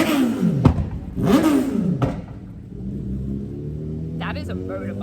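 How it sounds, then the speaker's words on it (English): A motorbike engine revs hard twice in quick rising surges, then settles into a steady idle rumble, with a voice cutting in near the end. "That is a motorbike, believe it or not."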